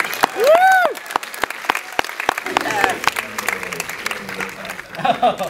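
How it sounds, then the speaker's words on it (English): Loud audience applause at a Screamfest horror film festival Q&A, with a rising whistle near the start and steady crowd clapping that runs throughout and swells again at the end. "applaud my wife"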